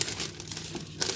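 A plastic supermarket bag crinkles and rustles up close as it is handled, giving short irregular crackles with a louder burst near the end and no talk.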